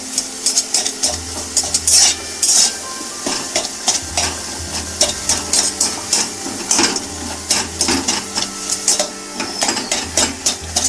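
Boiled tomatoes for Bengali-style tomato chutney mashed with a spatula in a pan: repeated sharp scraping and clacking strokes in an uneven rhythm over a soft simmer, close and fairly loud, no talk.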